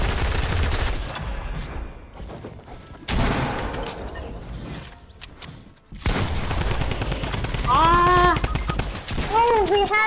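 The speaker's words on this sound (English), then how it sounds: "He has a minigun!" A minigun fires in the Fortnite video game in repeated sustained bursts of rapid gunfire, loud and close, with short pauses between volleys and excited voices talking over it.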